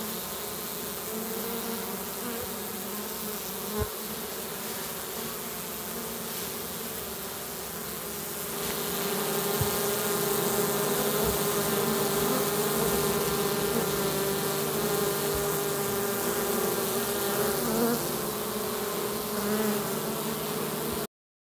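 A swarm of bees settled in a shed among a stack of old hive kit drones in a dense, continuous buzz that swells louder about halfway through, with scattered thumps and no voices.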